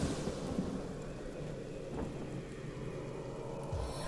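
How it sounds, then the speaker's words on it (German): Rain conjured by a spell in the video game Divinity: Original Sin: a steady, dense hiss of falling rain with a low rumble like distant thunder, continuous and fairly loud throughout, with no talking. "der Jayen lässt einfach mal regnen"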